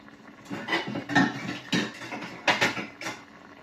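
A pot lid clanks down onto a metal cooking pot while tenderloin cooks for a cauliflower dish, giving several sharp, close metallic knocks and rattles in a short burst.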